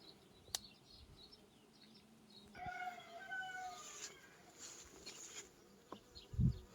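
Faint, close buzzing of many honeybees droning around an open hive after the rapeseed flow has ended, with a few brief clicks and a soft thump near the end.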